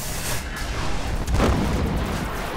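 Grenade blast in the video game Destiny, a loud, broad low boom with a rumbling tail that fills the short moment, no speech.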